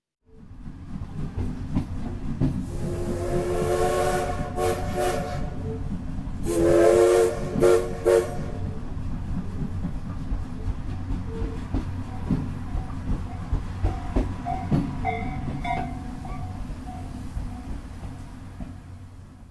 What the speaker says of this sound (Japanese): これまた汽笛の連発